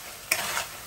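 Something fries in a pan of oil in a home kitchen, producing a steady close sizzle that swells in two louder bursts, probably from stirring.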